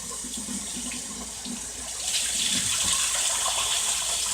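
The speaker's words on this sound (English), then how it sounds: "So you're basically gonna rinse it off till most of the milky is all gone." Water runs from a faucet into a sink while rice is rinsed, a steady splashing flow that grows louder and brighter about halfway through, with no talking.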